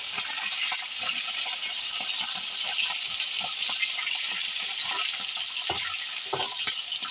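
Small fish fry in hot oil in a pan, a dense close hiss with frequent crackles and spits running steadily throughout, no voices.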